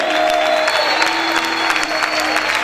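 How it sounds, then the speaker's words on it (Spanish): A church congregation applauds during worship, a dense continuous wall of clapping with a few cheers and voices mixed in, loud and sustained. "¡Aplaude!"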